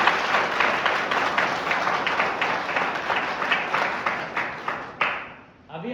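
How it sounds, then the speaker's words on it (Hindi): Loud, dense applause from a crowd at a youth event in Palamu, India, honouring the Mera Yuva Bharat team, steady clapping for several seconds before it thins and stops near the end. "मेरा युवा भारत पलामू की टीम के लिए एक बार जोरदार ताली बजा दें"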